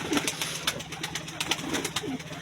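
Soft, low coos from caged pigeons murmur repeatedly at close range over a busy background of fluttering and scratchy clicks, with no talking.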